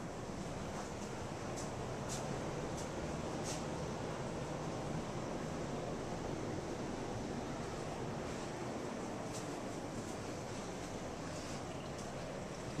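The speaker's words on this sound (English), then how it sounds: "And now you're looking at the Indian Ocean." Indian Ocean surf at a Maldives beach, a steady, faint wash of waves with a windy hiss and no voices, continuous throughout.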